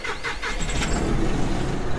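A tractor engine runs while its front loader is lowered, giving a loud, steady mechanical rumble. A few quick rising whirs at the start settle into an even drone, with no voices.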